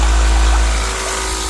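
A 12 volt concrete compacting motor vibrates a home-built shaker deck, making a loud close low-pitched buzz over a wash of splashing water, easing slightly partway through.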